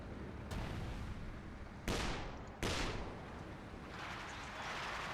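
Gunfire and blasts in the Company of Heroes 2 strategy game, a few loud bursts over a constant rumble of battle, with a rough noisy stretch near the end.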